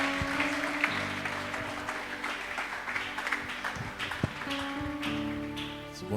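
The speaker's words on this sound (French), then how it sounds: "On peut l'accueillir avec des acclamations." A church audience applauds to welcome a pastor at a ministry conference, a steady wash of clapping with scattered louder claps and some background voices throughout.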